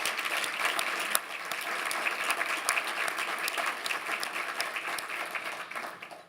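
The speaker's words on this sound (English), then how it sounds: "Please give yourselves a round of applause." Donors applauding themselves at an evening gratitude event, a full room of steady clapping with crisp individual claps standing out, sustained at even strength before tapering off at the end.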